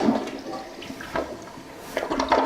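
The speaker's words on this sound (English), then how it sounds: "Once it's filled up, you're going to flush it a couple times." A newly installed toilet is flushed during a leak test, giving a close, rushing swirl of water with surging bursts that fluctuate in loudness throughout.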